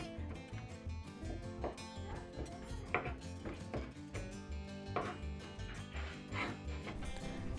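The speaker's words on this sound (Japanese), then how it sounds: "サーモンも包丁で叩いていきます。" Rapid kitchen-knife chopping of salmon on a cutting board, repeated quick thuds in an uneven rhythm, close and fairly quiet, with a dog whimpering and yipping in the background.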